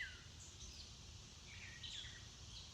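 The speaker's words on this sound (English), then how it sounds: "Birds and cicadas, lawnmowers and dogs." Outdoor birds give a few faint, brief chirps and whistles over a quiet background hum on a summer morning.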